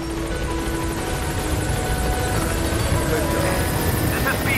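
Helicopter in a video game flying in toward a landing zone, a steady loud rotor drone holding throughout with radio-style voices talking over it.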